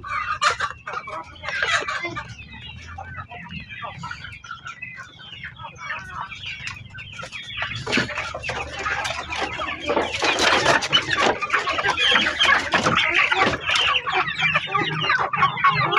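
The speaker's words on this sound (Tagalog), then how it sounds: "yung mga nasa kulungan mga kapanok ay pagkainin natin sila ngayon" Chickens in a coop being fed, a dense chorus of clucking and squawking close by that swells louder in the second half, with faint rustling underneath.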